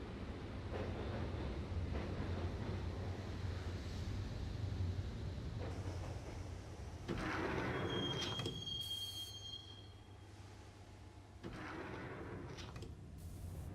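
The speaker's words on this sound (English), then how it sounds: "the train doors had already shut behind me, and I was in for the ride" A train rides through a subway in the video game Max Payne: a continuous rumble of wheels on track, with rising screeches of wheel squeal and bursts of clatter as the carriage rolls on.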